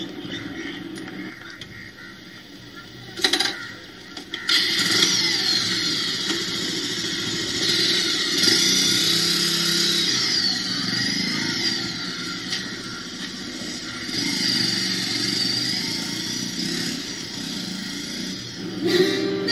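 A hero's motorcycle engine runs and revs as he rides, a droning hum that swells and shifts in pitch, with a few sharp knocks and a break near the start.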